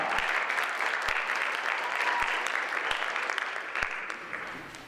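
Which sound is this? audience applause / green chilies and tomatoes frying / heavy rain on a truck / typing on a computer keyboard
audience applause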